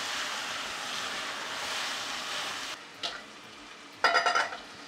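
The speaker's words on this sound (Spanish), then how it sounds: "Mezclamos bien." Longaniza sofrito with tomato paste being stirred in a pot, a steady frying sizzle fills the first part, then a few brief scraping stirs stand out near the end, with no voices.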